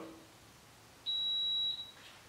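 A single sustained electronic beep from a roller shutter motor during end-of-travel limit programming, about three quarters of a second long and clear above a quiet background, followed by a brief faint trailing tone.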